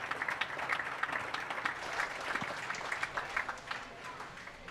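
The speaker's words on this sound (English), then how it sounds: "let's give these kids a huge round of applause on a really great set of steers" A county fair crowd applauds young exhibitors after a market steer show, with scattered, fairly faint clapping heard at some distance and a slightly uneven rhythm.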